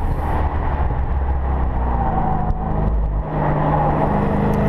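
A 2014 Jeep Grand Cherokee SRT is driven hard around a corner of a race track, its engine a steady loud roar heard from inside the cabin, with a slight dip and recovery in the middle.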